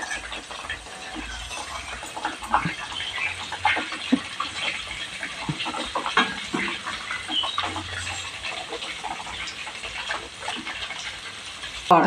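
Homemade ghee spits and crackles in a pan after a drop of water goes in, a dense run of sharp pops and sputters over steady bubbling, close and loud, with no talking.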